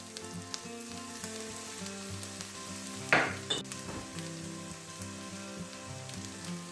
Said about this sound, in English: once the onions have started to soften a little bit, we're going to go in now with 3 cloves of garlic, which I've just finely chopped